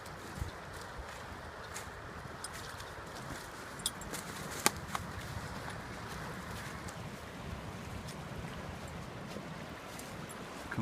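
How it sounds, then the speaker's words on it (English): Rapids of a swollen river in Caledonia, Wisconsin, in early spring rush as a steady, broad roar of churning water heard from the bank, mixed with gusty wind buffeting the microphone. "show you guys the rapids and the swollen river"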